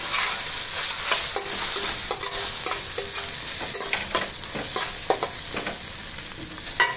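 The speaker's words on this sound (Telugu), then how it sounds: "ఇప్పుడు మనం అల్లం వేయించవచ్చు." Ginger frying in a pan for vegetable fried rice, stirred with repeated sharp scrapes and clicks of the utensil over a continuous bright sizzle, close and fairly loud throughout.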